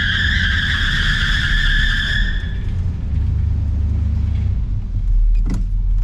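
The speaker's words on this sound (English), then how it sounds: "Well, guess we did get a little burnout." High-pitched tire squeal from a 1968 Chrysler Imperial with a 440 engine screeches over the roaring engine for about two seconds, then the engine keeps rumbling loudly with a short clunk near the end.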